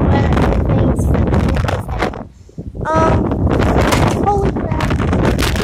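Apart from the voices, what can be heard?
strong wind blowing outdoors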